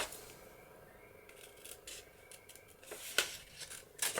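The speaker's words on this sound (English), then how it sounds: "I'm going to cut that corner piece out," Scissors cut a corner piece out of paper, close and quiet, giving a few crisp snips and rustles of the sheet, with a sharper cut near the end.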